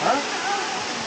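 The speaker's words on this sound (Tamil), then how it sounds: "அண்ட் நம்ம ஃபால்ஸுக்கு வந்துட்டோம்." Waterfall in Yercaud, a steady broadband rush of falling water filling the scene, with a brief louder swell at the start and no pause.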